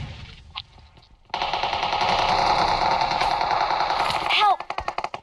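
Rapid automatic gunfire in a multiplayer shooter game, a sustained loud burst of rattling shots, followed by a few scattered single shots as it tails off.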